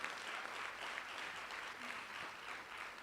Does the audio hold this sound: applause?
yes